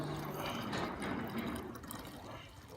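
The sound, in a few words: water poured into a seed-planting robot's tank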